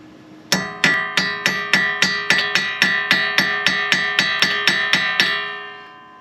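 Repeated hammer blows strike a brake rotor on a 2013 Dodge Avenger, about fifteen sharp metallic hits in a steady rhythm with ringing overtones, loud and close, then a fading ring.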